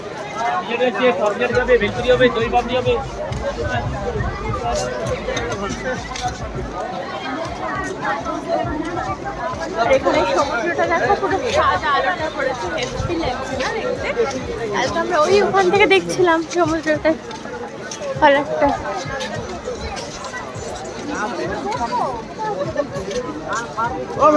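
A busy Sunday crowd mills along the Digha seafront, a dense and continuous babble of many voices close by, with footsteps and nearer talk mixed through it.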